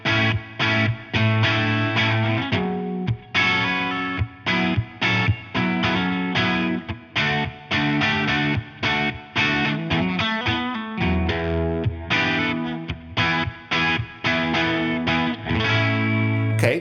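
Electric guitar played through an OPFXS Twin Boost pedal into distortion, with steady driven strummed chords and short gaps between strokes, loud and continuous, no voice.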